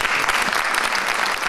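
Audience applause fills a hall at a Jewish Federation of Monmouth County humanitarian award event, a dense, steady clapping crowd sustained at even loudness throughout.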